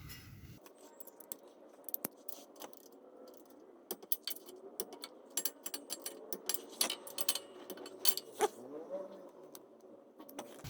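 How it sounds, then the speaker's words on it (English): A torque wrench tightens exhaust bolts on a Subaru WRX, giving sharp metallic clicks and ratcheting ticks scattered irregularly over a faint background hum, close and fairly quiet. "I'm gonna torque these down now."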